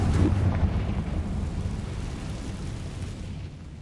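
A Confringo blasting spell in Hogwarts Legacy erupts into a loud, rumbling boom right at the start, then trails off into a long, low roar that fades over several seconds.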